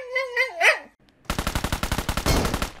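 Rapid bursts of automatic gunfire from a video game, a dense run of sharp shots in quick succession following a brief vocal sound and short pause, loud and close.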